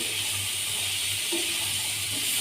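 Sliced carrots frying in a pan for a paratha roll filling give off a steady, close hiss of sizzling oil with a faint low hum beneath, continuous and without talk.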